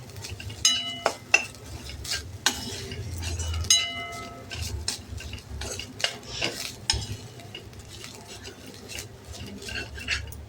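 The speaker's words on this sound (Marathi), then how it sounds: "1-2 मिनटं आपण परतून घेऊया. तुपात भाजल्यावर छान सुगंध येतो." Grated coconut being sautéed in ghee in a pan, with repeated spoon scrapes and metallic clinks against the pot over a soft sizzle, up close and without talk.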